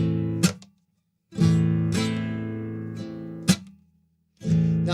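A blues shuffle strummed on guitar with palm muting: bright chord strums alternating with short, choked muted strokes and gaps of silence between them, close and clear, with no talk.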